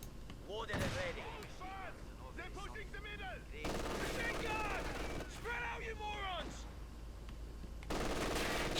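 Machine gun fire in Company of Heroes 2 during a 1v1 match against a garrisoned position, bursts of rapid shots rattling under a commentator's steady talk, moderately loud with brief pauses between volleys.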